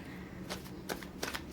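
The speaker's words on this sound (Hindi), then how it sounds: "मैंने कर लिए कार्ड्स की सफलिंग" Tarot cards shuffled by hand in a few quick riffling bursts, each a soft papery flutter separated by short pauses, close and moderately quiet with no talking.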